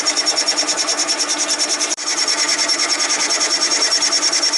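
A metal lathe spindle turns at about 600 RPM while a triangular carbide-tipped tool cuts, giving a steady pulsing whir with a brief dropout near the two-second mark.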